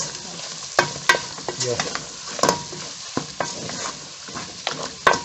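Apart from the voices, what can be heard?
beef simmering and frying in a pan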